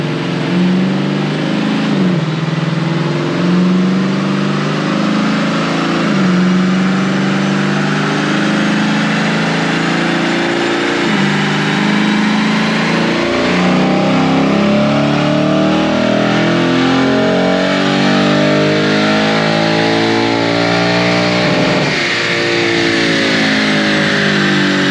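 Lexus GS-F V8 roaring through a full-throttle dyno power pull, a loud close engine note climbing steadily in pitch over many seconds and briefly dropping before rising again, with no voices.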